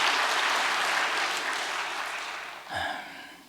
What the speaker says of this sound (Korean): 감사의 박수를 한번 보내겠습니다.